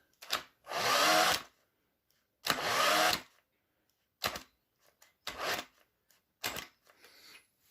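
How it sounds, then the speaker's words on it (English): Several bursts of a cordless drill whirring as it turns the crank of a Mk2 Golf GTI 16v engine, two longer runs followed by short quick pulses, close and loud with no talking. "just get a cordless drill on it"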